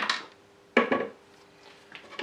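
Epoxy being mixed in a small container, heard as a few brief clinking and scraping knocks with quiet gaps between, close and fairly soft.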